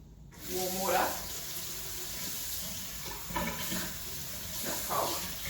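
A household tap runs steadily while waiting for warm water to come through, a continuous hiss of flowing water with a few brief clattering voice-like sounds over it.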